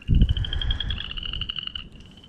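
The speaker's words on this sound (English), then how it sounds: "hear the frog." A frog gives a rapid, rattling trill close by, lasting nearly two seconds, over a low rumbling background.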